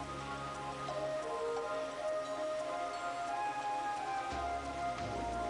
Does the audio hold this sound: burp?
no